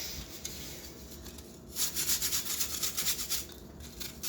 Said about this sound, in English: Then I'm going to start grating the apple.